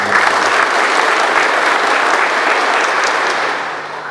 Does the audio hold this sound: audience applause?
yes